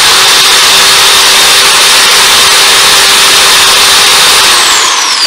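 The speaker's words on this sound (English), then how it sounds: "taking a drill bit, putting a stack of my cups together, and then putting the drill bit down." A power drill bores through a stacked set of cups for a Christmas craft, a loud, steady whining motor that runs continuously for several seconds and tapers slightly at the end.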